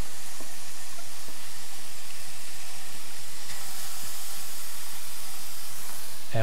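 Cauliflower hits a hot pan of softened garlic and sets off a steady, loud sizzling hiss. The hiss holds even and unbroken throughout, with no talking over it.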